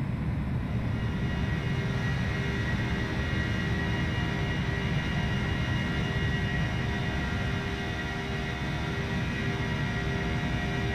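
Flight Factor A320 airliner with the Batavia mod in a flight simulator, cruising down the Florida coastline: a steady, even engine drone with a broad roar and faint tonal hum, continuous and unchanging throughout, with no voices.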